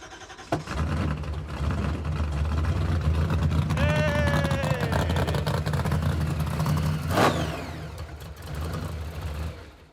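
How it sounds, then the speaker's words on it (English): A 1970 Dodge Super Bee with an old-school Hilborn cast throttle body cranks and catches, its engine rumbling steadily and loudly up close throughout, with a brief rise in revs partway through. "Trying to get it started now with the new old throttle body."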